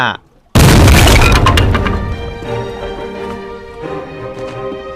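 A video game cannon fires: a heavy boom erupts suddenly after near silence, followed by crackling debris and a ringing decay that fades over several seconds beneath faint music.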